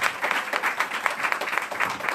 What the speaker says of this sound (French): Applaudissez encore les professeurs